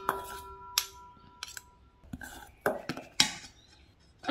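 Lemon juice dressing being mixed in a bowl for a salad, with light metallic clinks and taps of a utensil against the dish, close and intermittent.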